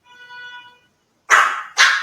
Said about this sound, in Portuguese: Ele tá latindo.